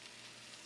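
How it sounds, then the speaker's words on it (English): Mayonnaise-coated bread frying mayo side down in a preheated pan, giving a steady, soft, continuous sizzle with no voices. "take our piece of bread, mayonnaise side down into the pan. You hear the sizzle."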